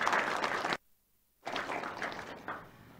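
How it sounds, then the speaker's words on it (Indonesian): Studio audience clapping during a televised regional parliament dialogue forum, a broadband burst of applause that stops abruptly, falls silent briefly, then resumes and continues steadily. "Boleh tepuk tangan sekali lagi?"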